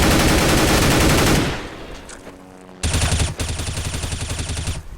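M4 rifle in Counter-Strike on Dust 2 firing loud rapid bursts, a dense spray that stops, a short pause with echoing tail, then another sustained burst of fast shots.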